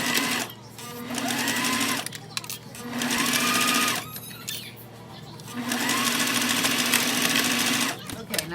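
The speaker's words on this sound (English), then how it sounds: "just go ahead and sew that down as close as you can to the edge" A sewing machine stitches fold-over elastic on a circle bear bag in fast, steady runs separated by short pauses, with a voice talking between the bursts.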